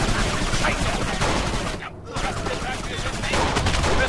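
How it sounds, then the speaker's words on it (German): Dense, continuous gunfire from the video game Kane & Lynch 2, a sustained loud fusillade of overlapping shots with a brief lull near the middle before the barrage resumes. "Lauft weg! Gleich gibt's Schüsse!"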